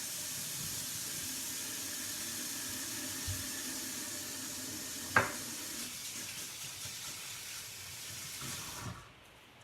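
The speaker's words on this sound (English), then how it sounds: "So I'm going to wash my hands real quick" Water runs steadily from a kitchen tap as hands are washed beneath it, a continuous hissing spray with one sharp clunk partway through before the flow cuts off near the end.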